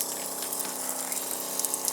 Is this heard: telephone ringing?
no